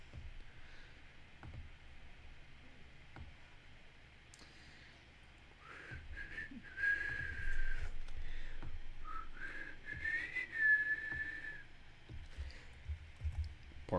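A person makes breathy, wavering attempts at whistling, with thin uneven tones rising and falling over several seconds against faint background noise, never settling into a clean sustained pitch.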